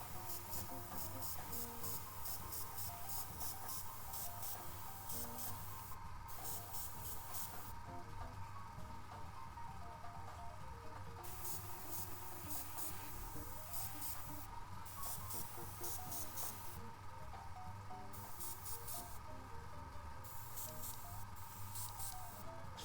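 An airbrush sprays paint onto a Kingdom Death miniature, giving a steady, close airy hiss that cuts off briefly several times as the trigger is released and pulled again; no one talks.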